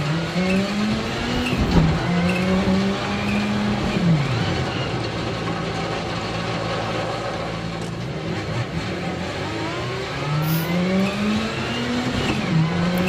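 Rally car engine in the Assetto Corsa Rally video game, revving and shifting through gears with rising and falling pitch sweeps, loud and continuous throughout while sliding and drifting, with brief tire noise.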